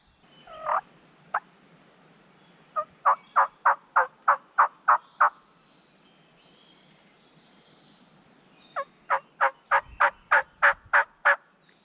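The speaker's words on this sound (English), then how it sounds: "Now we got two birds gobbling, probably within 150 yards." Two wild turkeys gobble in loud, rapid rattling bursts within about 150 yards on public land at morning, several calls strung together in quick rhythmic runs, with pauses between, fairly close and clear.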